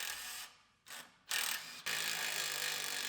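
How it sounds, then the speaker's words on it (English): A ratchet loosens the bolts on a car's brake caliper and bracket: quick bursts of dense clicking, separated by short pauses, then one longer steady run, close and clear, with no talking. "Now we can unbolt the caliper and bracket"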